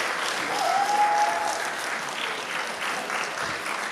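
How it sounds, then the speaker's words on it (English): Sustained audience applause at a community cultural festival and photography exhibition, a dense steady wash of many hands clapping with a faint whistle near the start, moderately loud throughout. "A big round of applause, please."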